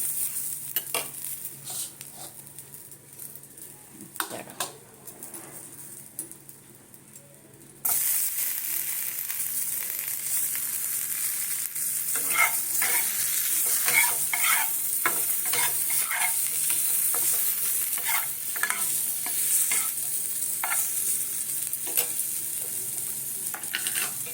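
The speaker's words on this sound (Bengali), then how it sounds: "প্রথমে দেব কসুরি মেথি কসুরি মেথি দিয়ে ভাজবো" Kasuri methi frying in butter for bread paneer pakoras: a quiet start with a few soft clicks, then a loud, steady sizzle from about eight seconds on, broken by repeated scraping stirs.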